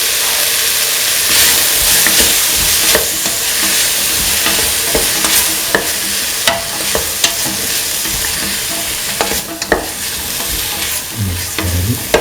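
A chickpea and snake gourd stew with tomato pieces is stirred in a pan, loud steady frying sizzle with repeated scraping and clacking strokes of the spoon throughout.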